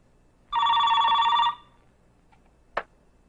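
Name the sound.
telephone ringing with an incoming call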